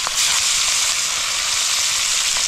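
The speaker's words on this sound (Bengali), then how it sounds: "তো এখন যাবে মাছ ভাজা" Fish frying in hot oil during an outdoor riverside cookout gives a steady, loud sizzle that runs unbroken for the whole stretch with no talk over it.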